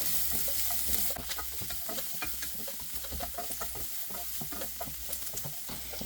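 Onions sautéing over a high flame, a dense continuous sizzle with rapid stirring scrapes and clicks running throughout, close and fairly quiet, no voices.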